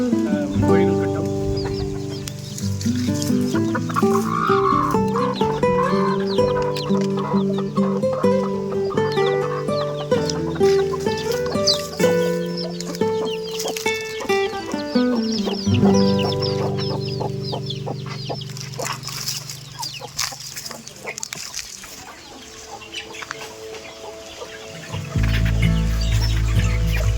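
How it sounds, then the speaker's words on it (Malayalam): A flock of native country chickens in a backyard run clucks and calls continuously, many overlapping birds close by, with occasional faint voices in the background. "നല്ല ആരോഗ്യമുള്ള കോഴികൾ കിട്ടും."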